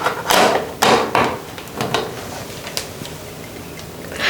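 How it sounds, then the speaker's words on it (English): A light wall switch faceplate snaps into place with a few sharp plastic clicks and taps close by, followed by quieter handling noise. "Now we're going to take the faceplate and pop it right in."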